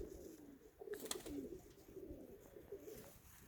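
Pigeons at a dovecote coo softly in low, repeated warbling calls, fairly faint against a light background hiss with occasional small clicks and rustles.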